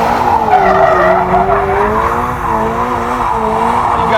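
A 2022 Toyota GR86 doing donuts, its tires skidding and squealing continuously over a steady engine drone, loud and close for several seconds.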